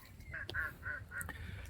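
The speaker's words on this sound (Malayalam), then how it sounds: "അവിടെ താറാവുകൾ" Ducks in a rural Kumarakom village give a string of five or six nasal honking quacks in quick rhythm, fairly close and clear over a quiet outdoor background.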